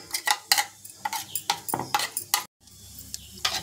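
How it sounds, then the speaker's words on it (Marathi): Cumin seeds crackle in a hot pan while a spoon scrapes and stirs in quick, repeated strokes, close up. After a brief gap, soft sizzling carries on. "तर हे बघा आता जिरं पण तडतडले"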